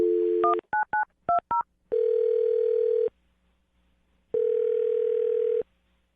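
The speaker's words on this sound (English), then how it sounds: "I'm going to dial his phone number right now" Rapid touch-tone beeps as a phone number is dialed, followed by two long, steady ringback tones separated by a pause; clear and close, no talking.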